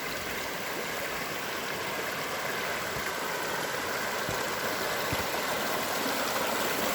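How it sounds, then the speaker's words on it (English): A mountain stream rushes steadily and close by as a broadband wash, with an ATV engine idling faintly underneath; a few soft low knocks break through. "show you guys how beautiful this mountain water is coming down out of here"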